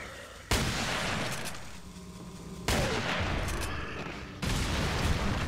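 Dynamite blasts in Resident Evil 4 hit hard three times in a row, each a sudden broadband boom that leaves a rumbling, crackling tail behind it. No voices come through.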